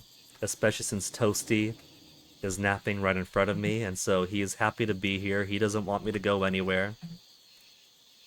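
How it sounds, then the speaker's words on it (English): Crickets chirp in a faint, steady background drone while a person talks in a calm, close voice over it for most of the stretch. "it does get quiet, only listening to the crickets chirp"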